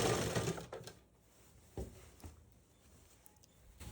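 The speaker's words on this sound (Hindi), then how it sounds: "बाजू को बिल्कुल भी नहीं खींचना है, सिंपल वे में सिलाई लगाएंगे।" A sewing machine stitches a sleeve onto a blouse, running quietly with soft rapid patter and a few faint clicks, louder at first and then fading to a low hum, with no speech.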